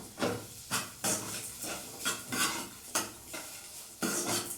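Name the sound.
onions and green chillies sautéing in a pan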